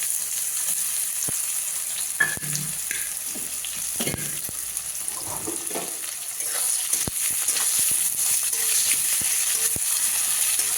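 Chopped onion, crushed garlic cloves and slit green chillies fry steadily in hot oil, a continuous close sizzle with occasional stirring scrapes and clicks throughout.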